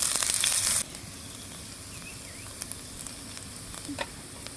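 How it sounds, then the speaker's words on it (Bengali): Chopped onion, cumin seeds and bay leaf frying in oil in a wok for a Bengali hilsa fish curry, a loud initial burst of sizzle settling into a steady low crackle with occasional faint pops and clinks. "আমি কড়াই তেল দিয়ে নিচ্ছি। পেঁয়াজ কুচি, জিরা, তেজপাতা।"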